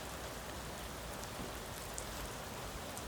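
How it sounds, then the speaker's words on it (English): Steady rain falling outdoors, a dense constant hiss with occasional faint drop ticks, even and unbroken throughout. "it is raining."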